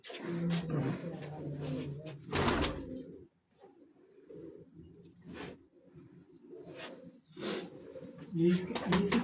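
Pigeons coo on a Faisalabad rooftop, low soft calls repeating at intervals amid louder clattering bursts, while people talk nearby.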